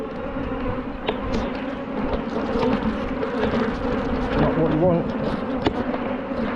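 Angry honey bees swarm around an open hive full of brood, a dense loud buzzing drone filling the scene while a person speaks briefly over it.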